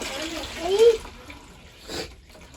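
Water runs from a tap into a container being filled, a steady wash of flow heard at close range with speech breaking in briefly over it.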